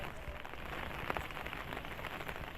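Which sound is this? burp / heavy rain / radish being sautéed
heavy rain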